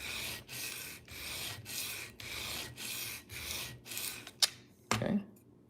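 A knife is sharpened on a diamond stone in about eight evenly paced rasping strokes, close and distinct. A couple of sharp clicks and a brief scrape follow before the sound stops.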